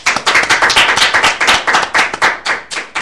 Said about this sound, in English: give the Father a hand clap of praise